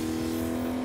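A car engine in the video game Agents of Mayhem hums at a steady mid pitch, loud and continuous through the short stretch with no speech over it.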